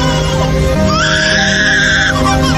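A lyrebird mimics a baby's cry: a single wailing, rising-and-held call lasting about a second, heard over a steady musical backdrop.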